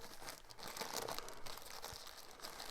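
Crinkly plastic packaging bags from an AliExpress parcel being unwrapped and pulled apart, a steady close rustle and crumple with occasional tearing sounds throughout, no talking.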